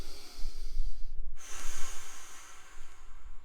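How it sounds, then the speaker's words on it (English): A single long, loud inhale during a Pilates class, drawn close through the nose or mouth as a steady breathy rush with a sharp onset, heard alone without talk. "Breathing in, breathing out"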